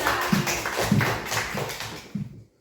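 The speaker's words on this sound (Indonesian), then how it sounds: "Beri tepuk tangan kepada Nopi" Schoolchildren in a 4th-grade civics class clap for a classmate, a short burst of light, quick hand claps close by that fades out at the end, with a little faint voice underneath.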